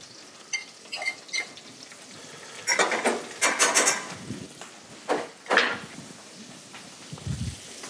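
Pigeon and trumpet mushrooms cooking in butter in a frying pan, a soft sizzle broken by clusters of sharp crackles and stirring clatters, close and moderately loud.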